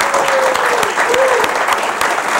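An audience at a comedy show claps steadily, a dense close patter of applause that runs throughout, with a faint whistle or voice drifting above it.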